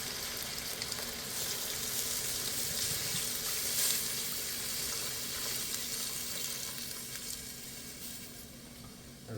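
Vegetables for Tuscan soup sauté in a pot with a steady, soft sizzle that carries on evenly under faint kitchen background sounds, without any talking.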